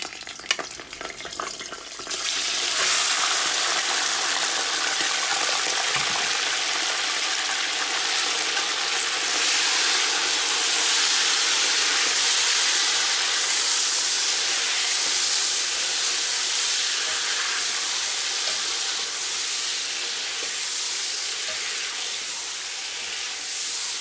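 Chicken pieces hit a hot pan for a chicken and potato curry, setting off a loud, steady sizzle and hissing steam that carries on unbroken for over twenty seconds with no talking.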